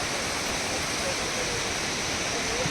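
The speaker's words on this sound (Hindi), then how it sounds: "तीरथगढ़ वाटरफॉल, 2 झरना आप मैंने दिखाया हूँ, और ये तीसरा झरना देखे पर जाओ जस्ट नीचे अभी।" Tirathgarh waterfall near Jagdalpur in Bastar pours with a steady, dense roar of falling water, loud and unbroken throughout.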